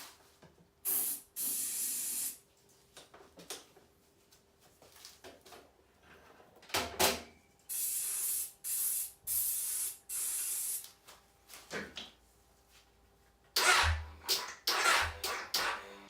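Aerosol brake cleaner sprayed on a Suzuki GSXR motorcycle during a rebuild, a series of sharp hissing bursts of one to two seconds each, separated by short pauses and faint workshop handling noises, close to the microphone.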